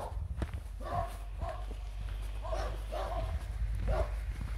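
Dogs bark in a few short bursts at middle distance, outdoors on an evening walk at Cerro de la Matanza, over a steady low rumble of wind or traffic.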